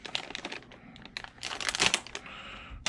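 Plastic packaging around the wing of a Hobao Hyper TT 4x4 RC truggy being cut and pulled open, giving close, irregular bursts of crinkling and crackling over about three seconds.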